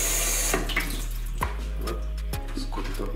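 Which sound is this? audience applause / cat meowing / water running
water running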